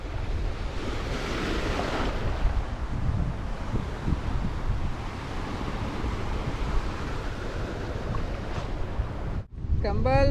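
Strong wind buffets the microphone over crashing surf, a constant roar by the sea; near the end there is a brief dropout followed by a rustle.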